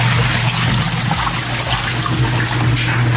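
Water pours steadily and loudly into the tub of a manual washing machine, filling it for rinsing laundry: a continuous close rushing and splashing with no break and no talk.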